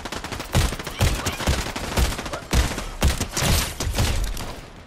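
Rapid gunfire bursts from a Fortnite match, loud and close, with repeated volleys and thumping shots packed across the whole stretch.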